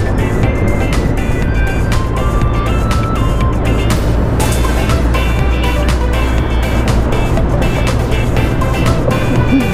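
A motorcycle on the road toward Iloilo, its steady engine drone and heavy wind rush roaring close and loud without a break, with no talking.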